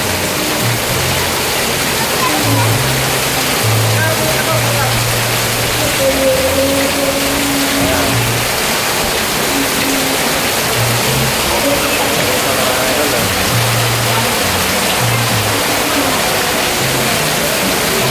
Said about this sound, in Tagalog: malakas ang ulan dito, mga idol